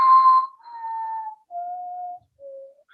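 A descending whistled tune of four sustained notes, clear and close, from a recording of something standing in a dark closet doorway whistling a song, with no talk over it.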